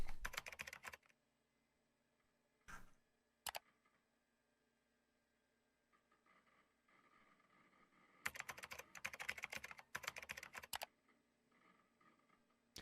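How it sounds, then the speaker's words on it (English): Computer keyboard clattering in a game, bursts of rapid erratic keystrokes separated by quiet gaps, with a couple of isolated single clicks in between. "the stuck keyboard sounds that just don't make any sense to what he was typing"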